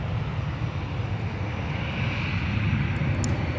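A Sun Country Boeing 737-800 taxiing on a taxiway at Minneapolis–St. Paul Airport gives off a steady, loud broadband jet engine roar with a low rumble, continuous and unbroken throughout, no voices.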